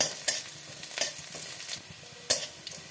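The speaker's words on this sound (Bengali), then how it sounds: "পেঁয়াজটাকে একটু লাল লাল করে ভাজবো।" Onion frying in oil until reddish for palong shak bhaja (spinach fry), a steady close sizzle broken by several sharp stirring scrapes and clicks.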